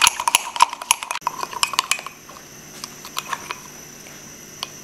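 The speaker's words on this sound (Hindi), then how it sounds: "इतनी देर हमने इसको बीट करना है जब तक कि ये क्रीमी सी शक्ल ना इसकी हो जाए" A spoon beats coffee in an open-mouthed cup until creamy, with rapid rhythmic metallic clinks that gradually slow and soften into sparse taps.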